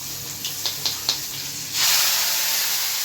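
Mustard seeds and asafoetida drop into hot oil for a Gujarati tempering: a few sharp crackling pops, then a loud, steady sizzling hiss that carries on to the end, close by with no talking.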